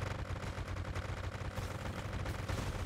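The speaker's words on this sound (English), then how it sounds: "Yellow is going to try and blast some scorpions with a cannon." Cannon fire against scorpions in a medieval real-time strategy game: dense, continuous rumbling bursts of explosive blasts, loud and layered with no voices.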